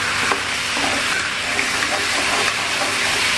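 Green chilies hit a hot pan of stir-fried tofu and bean sprouts, giving a loud, steady sizzle with light scraping from stirring throughout and no talk.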